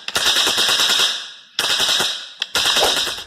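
A wooden hand-cranked noisemaker made to mimic machine gun fire rattles in three rapid sustained bursts, loud and close, with short gaps between them.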